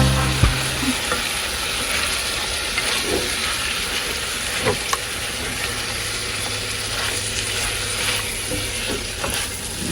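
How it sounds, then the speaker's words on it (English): Vegetables sautéing with saltfish in a pan in an off-grid Jamaican home kitchen, a loud steady frying sizzle with occasional scrapes and stirring knocks throughout, close and continuous, no talking. "Get the vegetable saute now guys. Then after saltfish. Saltfish already in it. Saute out the vegetable."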